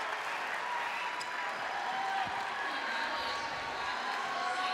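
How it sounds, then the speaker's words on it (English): Crowd applauding at a high school basketball semifinal between Groton-Dunstable and Hudson, a steady wash of clapping filling the gym without pause, with faint voices underneath. "The crowd continues to applaud for Evan Cook"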